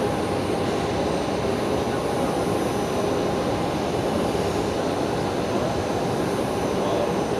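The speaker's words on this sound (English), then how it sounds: "That's Qantas Link 1916 going to Gladstone tonight" A QantasLink aircraft departing Brisbane Airport at night for Gladstone gives a steady, continuous engine roar at an even level, with muffled voices underneath.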